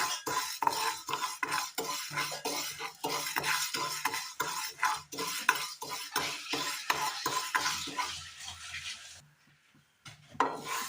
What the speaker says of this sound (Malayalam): ഒരു പാൻ അടുപ്പത്ത് വെച്ചതിന് ശേഷം അതിലേക്ക് നമ്മൾ എടുത്തു വെച്ചിരിക്കുന്ന ചെറുപയർ പരിപ്പ് ഇട്ട് കൊടുക്കാം.